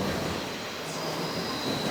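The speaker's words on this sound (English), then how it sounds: "I'm gonna wait this train out" A train rolls steadily across an old brick and limestone bridge, a loud continuous rumble of wheels with a high squealing whine layered on top and no voices.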